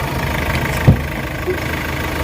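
A Hyundai H100 van engine that lacks pulling power idles steadily, a low continuous rumble with a faint vibrating hum and one brief bump partway through.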